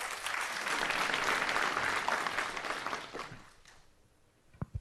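Dense applause from a conference audience at an opening plenary forum, a full steady clatter that fades out after about three seconds, followed by near-quiet with a couple of isolated knocks.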